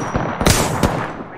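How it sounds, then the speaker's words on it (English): Gunfire in the video game Apex Legends: a quick burst of close, loud shots, with two sharp cracks standing out over a busy game background. "Taking shots."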